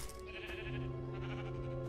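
A sheep bleats in Minecraft: Story Mode, one drawn-out, wavering cry that sits close and clear over a soft game backdrop.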